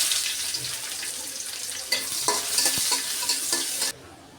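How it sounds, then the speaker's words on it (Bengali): Sliced onion dropped into hot oil already frying with whole cumin and dried chili, sizzling loudly with a brighter burst partway through and a few stirring clicks, then cutting off abruptly near the end. "একটু কালো কালো করে ভেজে নিলাম এখন পেঁয়াজ দিয়ে দিলাম"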